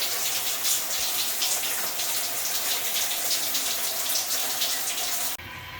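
Shower water runs steadily at good pressure, a continuous broad hiss that stays even throughout and dips slightly in level near the end.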